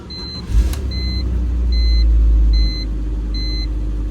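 An abandoned, high-mileage BMW E46 wagon engine cranks and catches, rising into a steady low idle, while a chime beeps repeatedly in a regular pattern.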